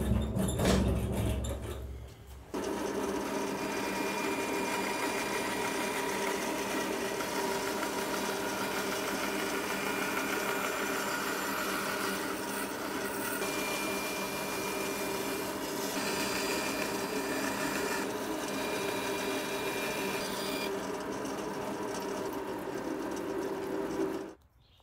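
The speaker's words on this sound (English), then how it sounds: "I'll use the bandsaw." A bandsaw cuts through wood for a cutting board in a workshop, its steady motor hum and blade rasp running continuously for about twenty seconds after a brief quieter start, then cutting off at the end.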